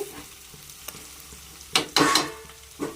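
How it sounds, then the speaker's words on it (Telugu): Bitter gourd pieces fry in a pan, a low sizzle broken by a few louder bursts of stirring and scraping near the end, close and with no voices. "ఈ కలర్ వచ్చిన వరకు కాకరకాయ ముక్కలు వేపుకోవాలండి."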